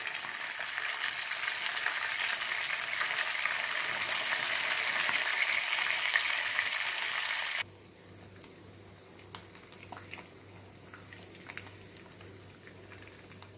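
Koramenu fish fries in a pan with a loud, dense sizzling hiss that drops suddenly to a quieter crackle with scattered pops and spits.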